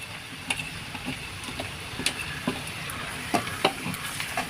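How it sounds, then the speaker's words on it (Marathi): Onion, red chilli powder and masala spices fry in oil for an egg fry masala, a soft steady sizzle with intermittent scraping stirs and spoon taps, close and moderately quiet, no voices. "सर्व मसाले तेलामध्ये व्यवस्थित फ्राय करून घ्यायचे"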